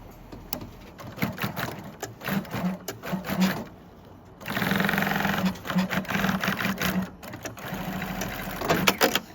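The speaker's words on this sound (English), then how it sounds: "we're going to put a line of stitching all the way into this corner to that one" A sewing machine stitches a line into the corner of a lined cummerbund, running in steady whirring, rattling bursts of several seconds with short stops and handling noises between them.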